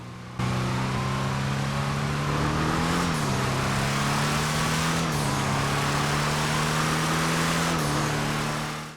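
A Hellfire muscle car in GTA Online accelerates hard, its supercharger whine rising alongside a loud, steady exhaust drone that holds for several seconds with brief dips between gear shifts.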